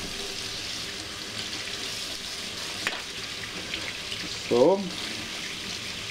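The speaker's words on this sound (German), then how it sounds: "Und jetzt wird das einfach abgespült." Tap water rinsing oven cleaner off a part, a steady hissing splash running throughout at low level, with a short spoken word near the end.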